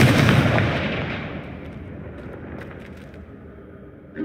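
Loud booming blast from Expelliarmus and Confringo spells in the Hogwarts Legacy video game, a broad burst that slowly fades over several seconds, with a smaller burst right at the end.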